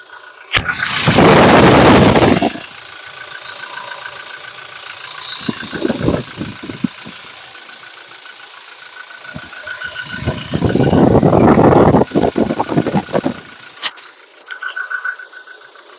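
A Toyota Innova Crysta 2.4 diesel idles with a faint, steady hum, broken by two loud bursts of close rustling or wind noise near the microphone.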